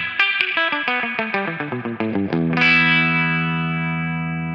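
An electric guitar plays a quick descending run of notes, then rings out on a held chord, all drenched in splashy, dripping spring reverb from a '63 Fender reverb unit.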